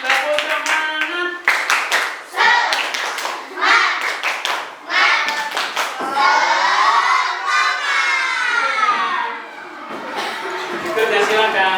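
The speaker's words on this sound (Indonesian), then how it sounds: "Tepuk tangan." Children in a classroom clap their hands in quick bursts, loud and close, with shouting and laughter breaking in between the claps.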